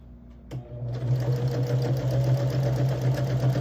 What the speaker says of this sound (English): I can sew these 2 together.